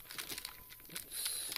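Foil Pokémon card packs from a Fennekin box being torn open, a brief burst of close crinkling and ripping with crisp rustles that build toward the end.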